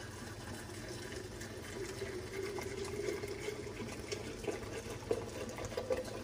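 Hands are scrubbed under a running tap in a home kitchen, giving a quiet, steady stream of water with soft splashing and rubbing.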